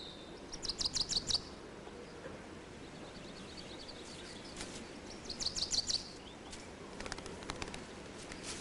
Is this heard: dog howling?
no